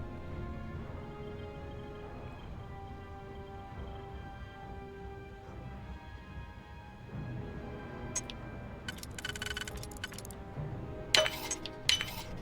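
Lockpicking in Starfield, with small metallic clinks and clicks that pick up in the second half and come through over a steady bed of game music and ambience.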